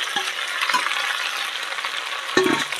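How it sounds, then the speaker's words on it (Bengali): Fried cauliflower drops into spice masala in a pan and sizzles loudly and steadily up close, with a brief clatter near the end. "এবার সেই ফুলকপিটা দিয়ে দিলাম।"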